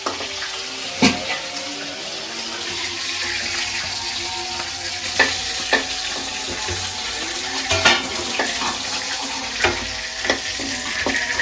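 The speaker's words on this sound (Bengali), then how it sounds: "এবার আলু কটা ভাজিয়ে নেব।" Potato pieces frying in oil in a pan, a steady close sizzle punctuated by scattered clicks and scrapes of a spatula stirring.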